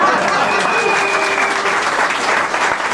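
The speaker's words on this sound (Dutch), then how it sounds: "bedankt, applaus, Kees Kool uit Tilburg" Audience applause at a Dutch carnival speech performance, a dense sustained clapping crowd close up, with a voice faintly over it.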